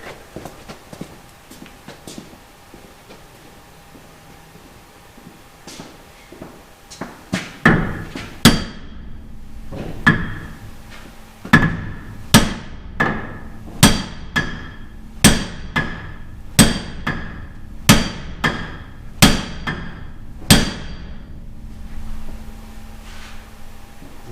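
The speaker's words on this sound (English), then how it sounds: "I'm gonna go to the other side, and I'm gonna tap that with a sledgehammer" Repeated sledgehammer blows on a Gleaner F combine clutch shaft, a series of sharp, loud metallic strikes at a steady rhythm after a few quieter taps.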